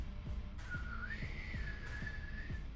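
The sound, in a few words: voice imitating a bird whistle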